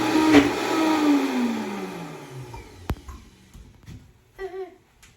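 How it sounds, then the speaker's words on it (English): A blender blending beans whirs loudly, its motor pitch sliding downward over a few seconds as it runs, then cuts out, followed by a few scattered clunks and faint noises. "I'm just gonna blend it until it's basically smooth in my blender"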